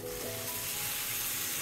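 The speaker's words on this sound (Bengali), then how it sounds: "এখন আমি আলু মাছের মাথা ঢেলে দিচ্ছি" Potatoes and fish heads sizzle loudly as they drop into hot spiced oil, a steady bright frying hiss with a short stirring scrape, close up with no talk.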